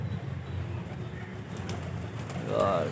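Pigeons coo softly against steady outdoor background noise, with a brief flutter of wings near the end.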